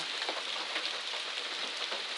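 Steady rain falls around a trail shelter in the wilderness along the Appalachian Trail, a dense, even hiss of drops spattering nearby surfaces throughout, with no voices.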